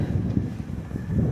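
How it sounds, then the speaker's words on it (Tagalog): Low, steady wind buffets the microphone, a dull rumbling roar with no voices. "Mahangin."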